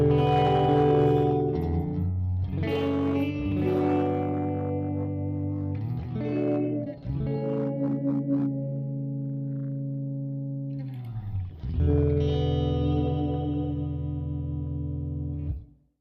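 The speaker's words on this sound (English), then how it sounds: "this is a clean with an AC-15. Does have a little bit of compression, a little bit of reverb on" Electric guitar with a clean tone through a Vox AC-15 amp with light compression and reverb, sustained chords and notes ringing out, pausing briefly between phrases and fading at the end, played alone without talk.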